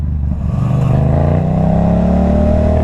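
A Yamaha MT-07 motorcycle revs loudly during a wheelie, its engine note rising steadily in pitch as it accelerates close by, a continuous aggressive exhaust roar with no talking.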